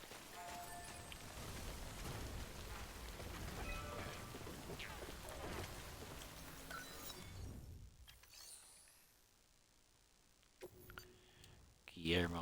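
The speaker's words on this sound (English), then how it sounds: "God bless the rains in the night city." Rain pours down over a night city in a video game, a dense, steady hiss for most of the stretch that abruptly thins into near quiet, followed by a few scattered sharp noises near the end.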